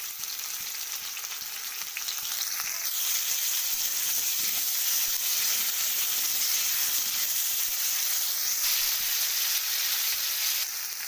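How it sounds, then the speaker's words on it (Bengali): Potatoes lightly frying in oil in a kadai, a steady close sizzle and crackle that holds throughout with no talking. "এবার আলুগুলোকে আমি হালকা করে ভেজে নেব।"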